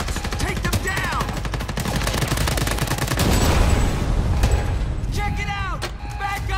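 Sustained automatic gunfire from a firefight in the video game Homefront: The Revolution, rapid bursts rattling continuously and loudly throughout, with shouted voices mixed in over the shooting.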